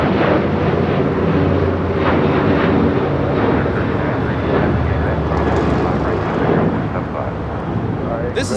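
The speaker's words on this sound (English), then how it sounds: "2674 taking off to Indianapolis on a 737-800" American Airlines Boeing 737-800 taking off at LAX bound for Indianapolis, a loud continuous jet roar sustained and broad for the whole stretch, fading slightly at the end.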